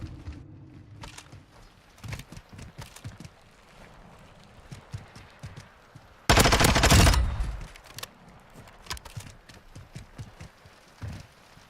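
Gunfire during a Call of Duty match, scattered sharp shots and clattering bursts with one loud sustained volley in the middle, all at close range with no talk.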